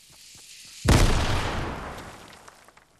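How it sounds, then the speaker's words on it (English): A grenade in the video game Fortnite detonates with a single loud, sudden boom that rolls off into a long fading rumble. "Anyways, here's a grenade."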